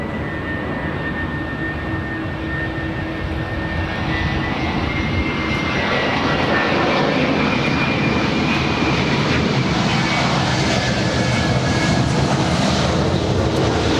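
An airliner on approach to land on runway 24 right at LAX, a broad, steady jet engine roar that swells gradually louder as the plane nears, heard from outside with no voices.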